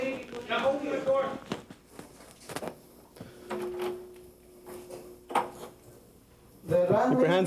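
A door in a residential suite is opened during a police call, heard as a few sharp clicks and knocks with shuffling movement, while voices talk at the start and the end.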